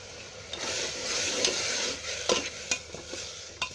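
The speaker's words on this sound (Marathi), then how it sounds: "अशी जरा हलवून घ्यायची" Maharashtrian godi dal being stirred in a pot, a continuous close scraping swish with a soft sizzle beneath it and a few sharper knocks of the spoon against the pot toward the end.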